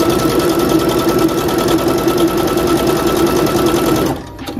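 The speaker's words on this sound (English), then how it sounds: "But we're sewing along." A sewing machine stitches fabric for a teddy bear ski mask, running steadily with a fast, even mechanical whir and rattle, close and loud, before stopping abruptly near the end.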